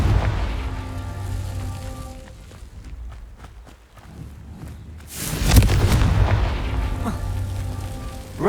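Confringo blasting-spell explosions in Hogwarts Legacy: rumbling booms and crackling debris, then a louder, broad blast that roars on for several seconds, with clicky footfall-like taps in the quieter middle stretch.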